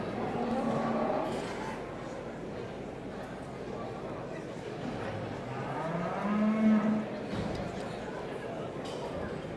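Beef shorthorn cattle at an auction judging ring, with a red heifer among them, moo in a few drawn-out low calls over a steady hall hubbub of chatter and movement.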